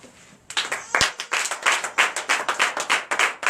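A church congregation at a Sunday service in Comè, Benin claps in a steady, brisk rhythm, loud and close, starting after a brief quiet moment and continuing evenly throughout.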